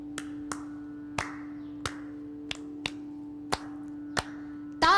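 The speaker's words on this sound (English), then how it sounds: "You still have to listen to what they're clapping, the rhythm that they're clapping to keep you in time" Hands clap a steady rhythm, about eight sharp, evenly spaced claps over a constant low hum.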